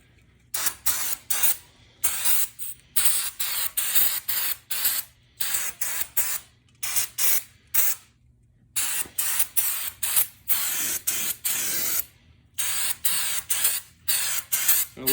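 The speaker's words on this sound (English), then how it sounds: "I'm going to go back now with a brake parts cleaner." Brake parts cleaner hisses from an aerosol can onto a panel of a Datsun 260Z in short, loud, repeated bursts with brief silent gaps between them, close to the listener.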